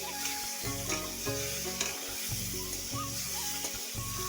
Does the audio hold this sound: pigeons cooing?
no